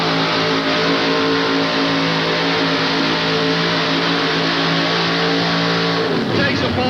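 A modified 4x4 Ford pulling truck with a Mountain Motor Ford engine roars loud and steady at a 1988 tractor and truck pull in Charlotte, NC, then drops off sharply at the end.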